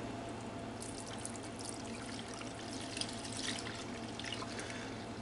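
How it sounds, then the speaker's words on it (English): Water pours and splashes into a gold pan used for panning fine gold, a steady close trickle with brief brighter splashes and no talk. "Now I'm going to put enough water in there so I could do my tapping technique."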